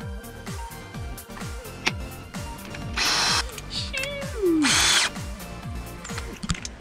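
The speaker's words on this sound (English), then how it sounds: "I have to drill some holes on the reservoir" A power drill bores holes through a plastic coolant reservoir for a 1971 Chevrolet C/10 pickup, two short, loud whirring bursts standing out over a steady rhythmic background.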